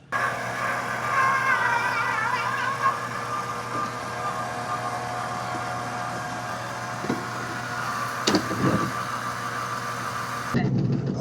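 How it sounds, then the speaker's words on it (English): A robot vacuum's dock washes its mop pad with a steady whirring mechanical hum and some sloshing, and sharper clunks near the end. "It's going to go back and wash its mop pad."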